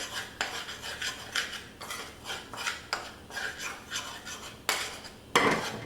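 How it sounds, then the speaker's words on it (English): Metal spoon or whisk scraping and clinking against a pan while flour cooks in butter for a roux, a steady series of close, rhythmic scrapes and taps. "I cook my flour in the butter"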